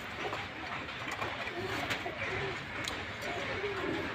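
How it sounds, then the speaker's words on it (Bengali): An Omani teddy pigeon coos in a soft, repeated low rumble, close by, with a steady hiss of background noise and no talking. "এই হলো আমার টেডি কবুতর"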